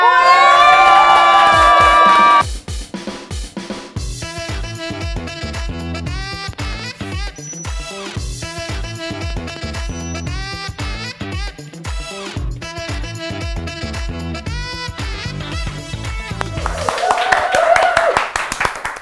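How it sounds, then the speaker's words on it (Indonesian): Audience at a talk show claps and cheers as a guest arrives, a loud burst of clapping and shouts at the start and again near the end, with music playing through the middle. "Teman-teman, kasih tepuk tangan aja dong"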